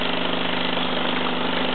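Mamod SE1/2 toy steam engine heated by a three-wick spirit lamp, running steadily at a fast, even rhythm that sounds like a soft, continuous close-up whirring chuff.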